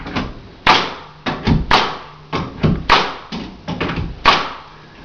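Nail gun firing nails into a closet shelf during a shelf installation, a series of sharp thuds and taps at irregular intervals, close and fairly loud, with no talk.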